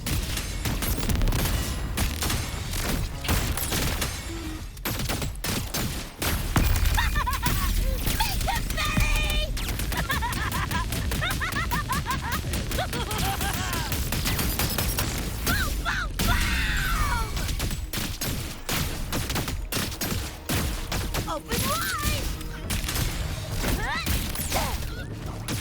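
Video game gunfire bursts in rapid, dense volleys throughout, loud and continuous, mixed with crashes, music and voices.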